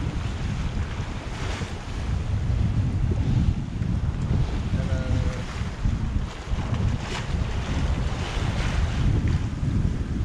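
Strong wind buffets the microphone in rough, rumbling gusts aboard a sailboat off Martinique, with waves and water rushing underneath; no one speaks.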